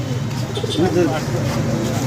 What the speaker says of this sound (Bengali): এগুলো হচ্ছে মিয়া নাজিরের ঘরের একজোড়া টেটি কবুতর